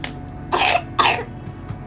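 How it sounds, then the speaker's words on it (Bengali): A child with a cough and phlegm in the chest coughs twice in close succession, two short harsh bursts about half a second apart, fairly close and otherwise quiet. "আর কাশিও হয়েছে, তেমনি ভালোই বুকের কফ আছে"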